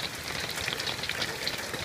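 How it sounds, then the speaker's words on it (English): Hail patters on an aluminum RV roof, a dense steady drumming of small hard hits that follows rain, heard close and continuous without talk. "now it's hailing out here"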